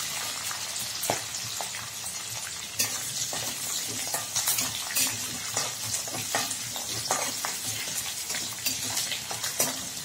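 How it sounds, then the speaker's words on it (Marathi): Green chillies fry in oil for a leftover roti stir-fry, a constant close sizzle punctuated by frequent sharp stirring scrapes and clinks of a spoon against the pan. "खूप फ्राय करायचं बरं का, हिरवी मिरची वगैरे सगळं छान।"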